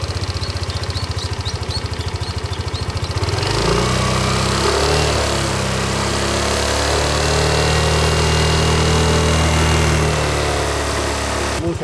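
A scooter with its stock exhaust idles with a steady putter, then revs up to a sustained louder drone held at about half its peak-power engine speed for a noise test, heard close up.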